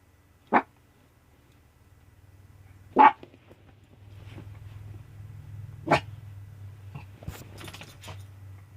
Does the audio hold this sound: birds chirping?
no